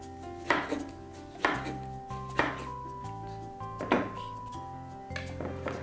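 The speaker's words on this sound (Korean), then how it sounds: "그 다음에 레몬도 마찬가지로 슬라이스를 해서 넣어줄 거예요" A knife slices through a whole lemon, peel on, on a cutting board, producing about six firm chopping thuds at a steady unhurried pace, close and fairly loud, with no talking.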